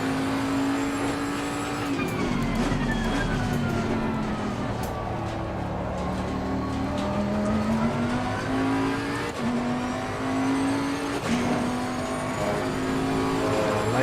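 Bentley GTC engine lapping the Hungaroring in the racing game Assetto Corsa, a continuous loud engine note rising and falling through gear changes and throttle lifts, with faint tire noise and no talk.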